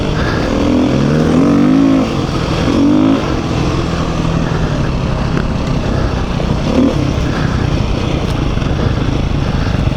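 A 2021 Beta 390 RR Race dirt bike runs steadily on a trail ride, its engine loud and close with a continuous rough drone and a few brief revs near the start.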